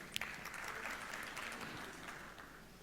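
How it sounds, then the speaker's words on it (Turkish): An audience applauds at a finance summit as a speaker is welcomed onto the stage, a steady wash of clapping from a crowd, heard at a distance and fading slightly toward the end. "Design VIP CEO'su Sayın Erbakan Malkoç'u alkışlarınızla sahneye davet etmek istiyoruz"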